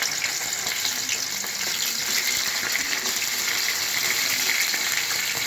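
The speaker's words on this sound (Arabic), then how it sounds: "احنا هنحطه في الزيت يتحمر" Stuffed mumbar sausage frying in hot oil, giving a continuous loud sizzling hiss with fine crackling bubbles that stays steady from start to finish with no talk.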